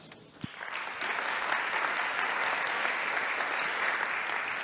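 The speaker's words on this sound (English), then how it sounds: "And a big applause to doctors who were unable to participate at the promotion." Audience at a university anniversary academic ceremony applauding, the clapping swelling in after a brief quiet start and continuing as a steady, even round from a large hall.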